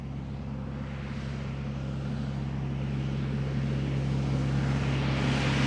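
An Aer Lingus airliner approaches Amsterdam Schiphol Airport on a misty day, a steady low engine drone growing gradually louder from a distance, with no talking.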